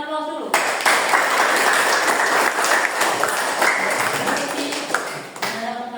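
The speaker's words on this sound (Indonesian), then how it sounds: "Kita berikan aplaus dulu." A classroom bursts into applause, a dense, sustained clatter of many hands clapping for about five seconds before tapering off, close and loud, with faint voices mixed in.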